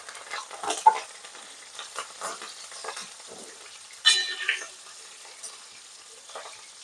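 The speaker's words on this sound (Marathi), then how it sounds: "तेल तापलं गॅस मध्यम आहे मिरच्या तेलात टाकून घेतलं" Green chilies frying in hot oil over a medium flame give a faint, low sizzle with occasional soft pops and a sharper crackle partway through, plus light stirring sounds.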